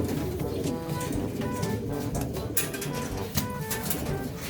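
Racing pigeons in a loft give low, repeated coos that drift over a constant background hiss, with no talking.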